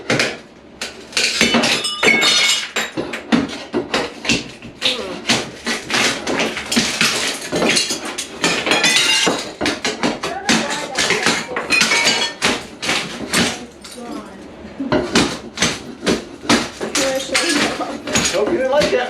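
Bathroom mirror glass being smashed and broken during a remodel, a dense run of sharp clinks, cracks and crashing shards that goes on almost without a break for the whole stretch, loud and close.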